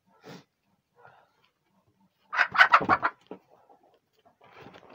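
Chickens on a farm, a rooster chasing young hens about seven months old: a sudden burst of loud, agitated squawks and clucks in the middle, with softer scattered clucks before and after.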